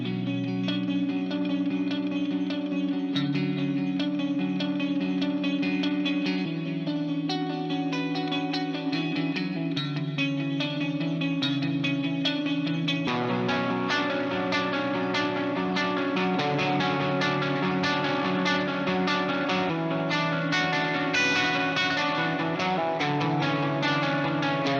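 Electric guitar playing a sustained chord progression through chorus, distortion and echo effects, steady and full throughout, becoming denser about halfway through, with no voices.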